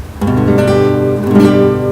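A guitar chord is strummed once and rings out, then gets a second lighter strum, full and close with no talking.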